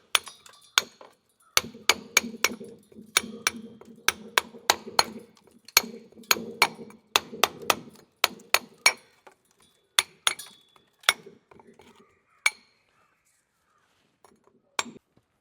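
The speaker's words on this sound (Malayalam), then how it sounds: "നമ്മൾ താന്ന് നിൽക്കുന്ന സ്ഥലങ്ങളെല്ലാം നമ്മൾ അടിച്ചു കൊടുക്കുകയാണ്" Fresh concrete is tapped down to level low spots while patching holes broken open for a pipeline, a run of sharp, close knocks in an irregular rhythm that thins out toward the end, with no talking.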